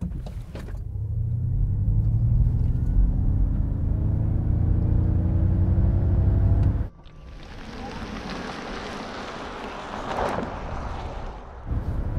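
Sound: Ford Mustang Mach-E electric car launching and accelerating

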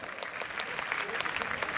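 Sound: stadium applause for eight relay teams

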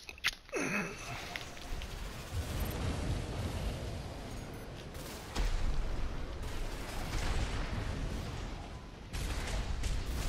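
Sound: shotgun fire in video game Armored Core VI

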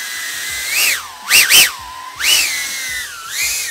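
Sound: cinewhoop drone propeller noise

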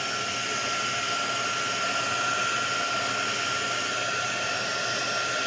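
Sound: heat gun blowing on resin in molds

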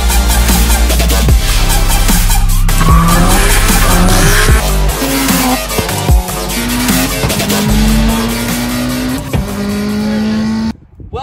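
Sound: EJ207-swapped Subaru WRX drifting, tires squealing

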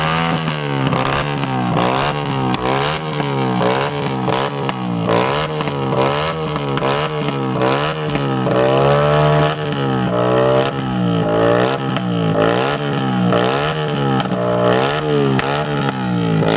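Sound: Yamaha XJ motorcycle revving with straight-pipe exhaust

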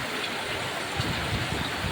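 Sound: rain falling

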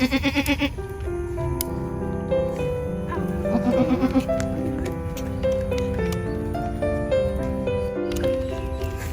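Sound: goats bleating on a goat farm

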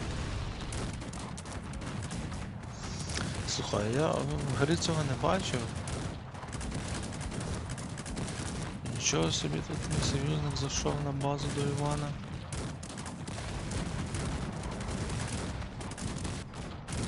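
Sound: cannon fire in the video game Cossacks 3

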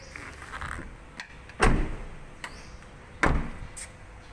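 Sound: opening the door of a 2016 Toyota Revo pickup

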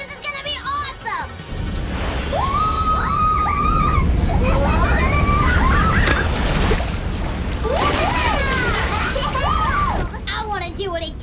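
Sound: cartoon characters' boat going over a waterfall, rushing water

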